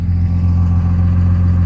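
A 1968 Imperial's engine runs loud and close in a steady, rough drone while the car is stuck in a backyard, without clear revs, and no one speaks.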